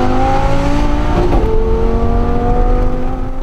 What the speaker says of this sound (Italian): Un V10 aspirato.